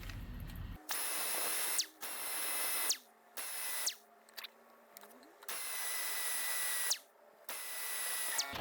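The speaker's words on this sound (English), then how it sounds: "So I'm going to go use this fancy angle grinder with the little sanding disc" An angle grinder fitted with a small sanding disc smooths the end of a throttle body cable for a Celica, running in several loud, steady whining bursts separated by short pauses.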